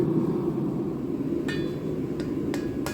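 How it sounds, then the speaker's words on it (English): Two-pound hammer striking the hot tip of a knife blade at a forge, three or four sharp ringing blows over a steady low forge roar. "just with a 2-pound hammer, just going to make sure that we bring that tip in nicely"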